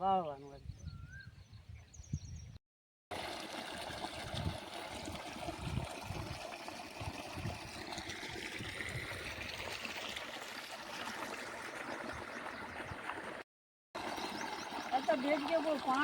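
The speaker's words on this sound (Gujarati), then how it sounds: "આ થોડું થોડું પાણી આવે" A thin flow of water trickles through an irrigation channel on a Gujarati village farm, making a soft continuous burble at low volume, with people talking and a bird calling at times.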